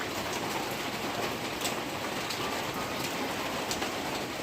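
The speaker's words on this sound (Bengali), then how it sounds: "বৃষ্টি শুরু হয়ে গেল বন্ধুরা, দেখো" Rain falling steadily in the morning, a dense even hiss of drops on surfaces with scattered louder patters, continuous and fairly close, with no voices.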